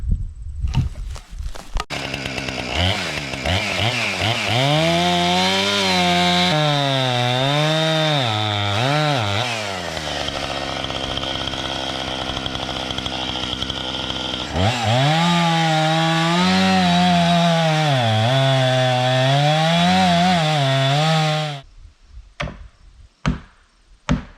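A chainsaw cuts through a fallen tree in the woods, its loud engine pitch sagging and recovering as the chain bites, with a pause in the middle before cutting resumes and the saw stops near the end.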